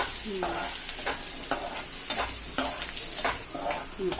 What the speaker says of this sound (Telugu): సన్నగా తరిగిన ఆనియన్స్ ఒక 2 మినిట్స్ కలుపుతూ ఉండాలా? అప్పుడే బాగా కరెక్ట్గా వేగుద్ది.